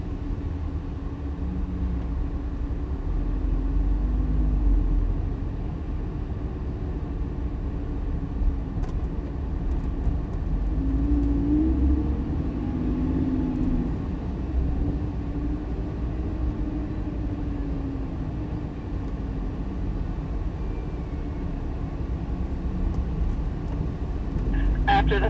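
Lamborghini Gallardo V10 engine idling and rolling at low speed, a steady deep rumble with slight swells, close by throughout, with people talking over it.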